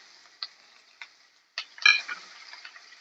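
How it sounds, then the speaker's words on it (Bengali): Capsicum and tomato pieces being stirred in a frying pan, a few separate scraping knocks of the spatula and then a busier burst of stirring with a light sizzle beneath, close and fairly quiet. "এবার একটু ভালো করে নাড়াচাড়া করবো।"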